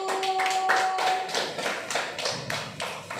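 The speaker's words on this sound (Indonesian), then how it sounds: "Tepuk tangan untuk kelompok 1." A group of children clapping together in a classroom after a group discussion, a dense, fairly loud patter of small hands that holds steady throughout with a faint tone early on.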